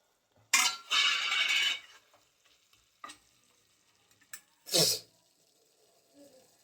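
Chicken set on the stove for a home dinner is covered with a lid: a loud clattering scrape of metal opening the clip, a sharp clink near three seconds and another brisk metallic clunk near five, with quiet pauses between.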